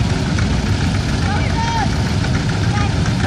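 Vintage 10 horsepower EK Bolin articulated two-wheel-drive tractor at a tractor parade, its engine giving a steady loud rumbling idle, close and continuous throughout.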